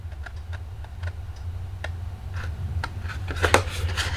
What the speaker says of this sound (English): Now I'm going to come back up here and I'm going to cut this piece out.